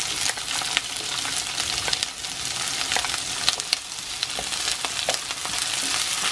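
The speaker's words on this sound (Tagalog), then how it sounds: "Then, lagay natin itong sibuyas." Garlic and onion sauté in hot oil in a pan while squid adobo is being cooked, giving a steady close sizzle with light stirring scrapes and clicks throughout and no talking.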